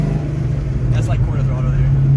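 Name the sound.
408W SN95 Mustang engine at quarter throttle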